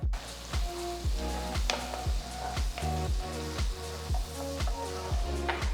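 Finely chopped onion frying in unsalted butter in a pan for a mushroom sauce, a steady close sizzle with repeated soft knocks and scrapes of stirring throughout.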